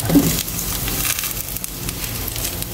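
Ginger and onion sizzle in a hot pan with a steady, close crackle of frying, briefly louder at the start as they hit the oil.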